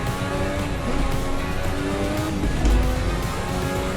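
Racing engines from a 1980s Benetton Formula 1 car in the Assetto Corsa racing game at the 1986 Portuguese Grand Prix, a loud, high-revving steady drone with a car close behind.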